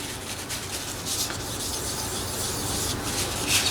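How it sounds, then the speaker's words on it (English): Steady soft rubbing and rasping as a CPU heatsink is wiped clean with rubbing alcohol, continuous and close with slight swells in intensity and no talking. "It needs a little bit more cleaning with the rubbing alcohol."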